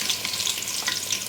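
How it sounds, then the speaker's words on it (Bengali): Finely chopped medium onions frying in hot oil with spices for chicken pulao, a dense continuous sizzle with crackling, close and steady, no voices. "পেঁয়াজটা তেলের মধ্যে ভালো করে একটু ভেজে নিচ্ছি।"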